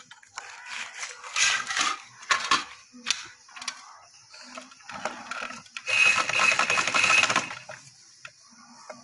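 A sewing machine stitches fabric for a designer umbrella frock, running in short mechanical bursts with pauses between, the longest run near the end, close and clear with no talking.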